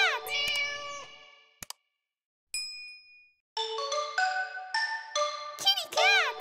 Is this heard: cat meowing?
yes